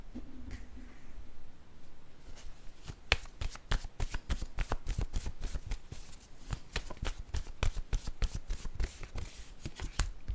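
Tarot cards are shuffled close up, starting with a soft rustle and then turning into a rapid, regular series of crisp card flicks and taps that carry on to the end.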